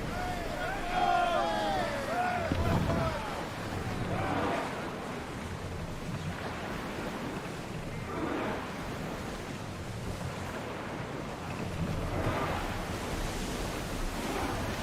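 A sailing ship in Assassin's Creed Odyssey crosses open sea, with swelling waves rushing and breaking in slow surges under steady wind noise and creaking timber.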